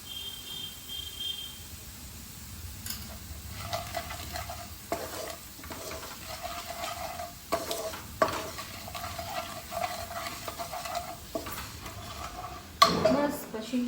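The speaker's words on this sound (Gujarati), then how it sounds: "પછી એમાં હળદર નાખી દેવાની." Turmeric is added to a pickle masala in a pan and stirred, making repeated scraping and clattering strokes over a faint sizzle, with a louder clank near the end.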